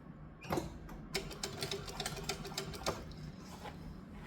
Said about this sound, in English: And I am top stitching 1/8 inch.